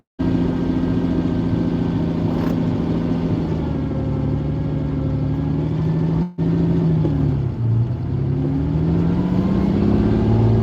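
A Lamborghini Countach engine drones steadily from inside the car while driving, its pitch shifting slightly with a brief dip partway through; no voices.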